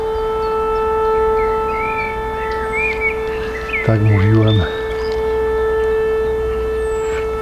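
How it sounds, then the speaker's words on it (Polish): A steady mine warning siren drones on one unbroken tone throughout, with birds chirping faintly and someone speaking briefly partway through. "będą strzelać trzy syreny i wybuch"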